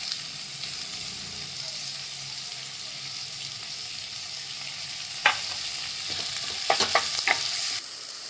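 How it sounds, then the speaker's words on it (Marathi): Chopped tomato drops into a pan of frying onions for Maharashtrian dal, a steady close sizzle with a few sharp clatters and scrapes late on. "कांदा झाला ट्रान्सपरंट आता टोमॅटो घेतला चिरून तो टाकते"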